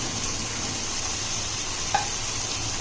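Chicken biryani masala with potatoes roasting in a pot gives a steady, even sizzle throughout, with one brief clink of a spoon against the pot near the end.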